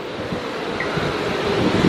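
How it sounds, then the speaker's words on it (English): Wind rushes across an open cruise ship deck at sea, a steady broadband roar buffeting the microphone for a couple of seconds, with no voices. "Oh, it's windy."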